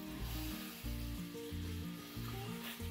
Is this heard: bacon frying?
yes